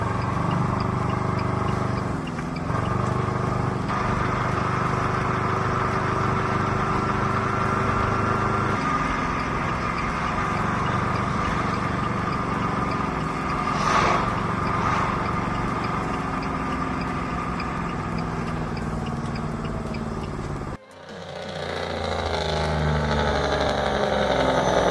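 Small Aixam microcar engine droning steadily while driving, a continuous buzzy hum with rising and falling revs, briefly cut near the end before resuming, with no talking.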